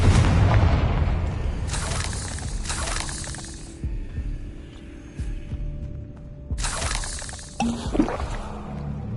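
In the Hogwarts Legacy video game, Confringo fire spells go off as deep booming blasts over a low ambient hum, with several separate bursts spread across the stretch and no talk.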